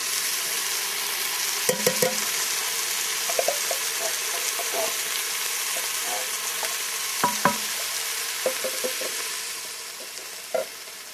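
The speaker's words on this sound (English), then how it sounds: "Now let's add the rest of the vegetables in here and let them saute for a while." Vegetables sautéing in a pot for cabbage soup, a steady sizzle with repeated spoon scrapes and stirring clatters close by, and a voice speaking at times.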